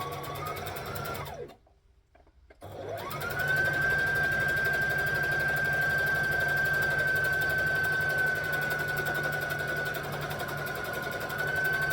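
A sewing machine stitches a section of fabric, humming steadily and fairly quietly with a whining motor tone, after a brief pause near the start.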